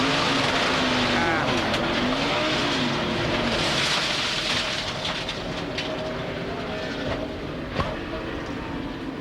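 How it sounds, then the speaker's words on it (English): Onboard audio from Kurt Busch's NASCAR Winston Cup race car at Homestead-Miami Speedway in 2003: a loud, steady engine roar with rising and falling whine, plus track noise, continuous throughout. "Just listen to this as we go on board Kurt Busch"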